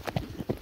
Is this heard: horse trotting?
yes